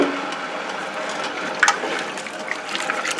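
Water poured into a pot of potatoes for a plant-based potato and vegetable dish, a steady close splashing pour running throughout with a brief louder burst midway.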